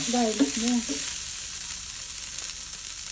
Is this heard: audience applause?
no